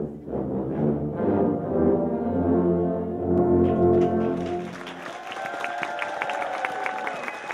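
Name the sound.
tuba ensemble playing at Tuba Christmas concert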